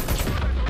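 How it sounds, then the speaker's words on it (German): A brief, loud burst of rapid gunfire from a video game, dense and crackling, heard alone. "Ein Schuss, muss man machen."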